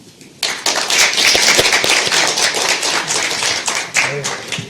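Audience at a Korean presidential candidates' debate hosted by the journalists' association bursts into applause after a short quiet lead-in, dense clapping holding steady and then thinning slightly toward the end.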